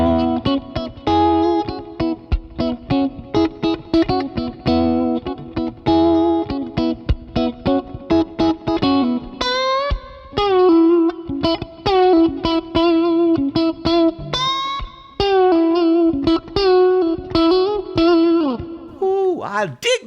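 An electric guitar plays through a captured 65 Deluxe Reverb amp profile, loud and close, with rapid picked notes and chords ringing with distortion and effects, bending and sustaining in the later phrases.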